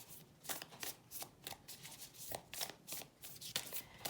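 Moonology oracle cards are shuffled by hand in quick, soft riffling bursts, a close and quiet rhythmic flutter repeating for a few seconds.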